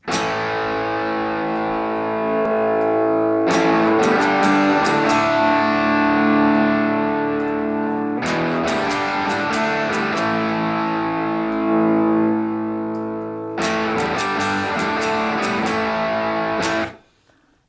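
Distorted electric guitar played through a Blackstar IDX Floor multi-effects unit with reverb room settings, in three sustained strummed phrases of ringing chords with reverberant tails, fairly loud and alone, ending abruptly.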